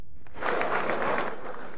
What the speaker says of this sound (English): When Mikhail Gorbachev visited Boris Yeltsin's Russian parliament, he got a round of applause at first